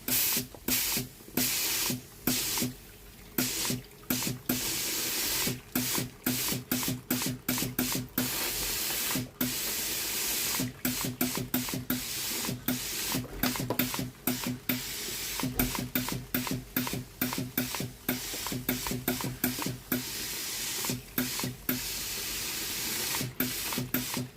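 Water squeezed onto the soleplate of a Philips steam iron tilted at about 45 degrees during cleaning, giving a steady loud hissing spray broken by many short sharp bursts and pauses, with no voices.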